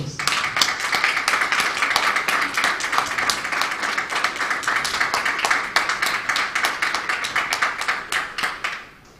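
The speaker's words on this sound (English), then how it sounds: "I think they need a round of applause." An audience at a programme launch event applauds in dense, steady clapping that stays strong throughout and fades out at the end.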